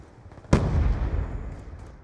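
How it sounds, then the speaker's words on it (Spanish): A single loud gunshot blast in the Call of Duty Black Ops 2 video game, a sharp close burst that rings and fades over about a second and a half. "Disparo efectuado."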